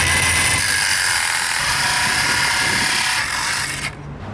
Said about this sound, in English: It's a little homemade miter saw stand.